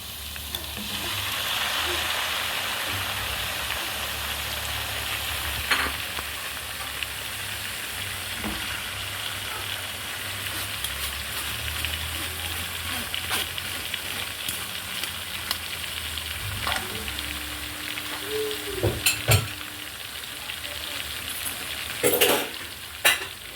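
Liver fries in a pan with a continuous close sizzle and hiss, broken by a few soft clinks and scrapes of stirring near the end.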